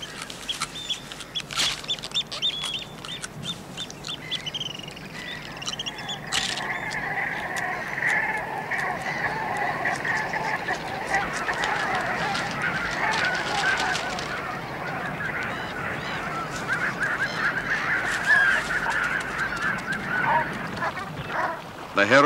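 Brent geese honk repeatedly in a coastal setting, a flock calling in overlapping bursts that grow louder midway and continue at moderate distance.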